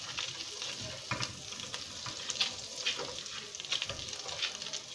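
Garlic cloves sizzle in melted butter in a pan while being stirred, a steady frying hiss broken by several scraping stir strokes, close and moderately loud with no talking.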